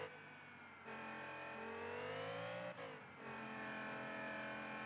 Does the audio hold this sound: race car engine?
yes